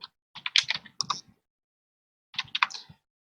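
Password being typed on a computer keyboard, two short bursts of quick keystrokes with a pause between them, close and clear with no talking.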